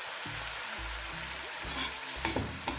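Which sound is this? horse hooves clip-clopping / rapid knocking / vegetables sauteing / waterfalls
vegetables sauteing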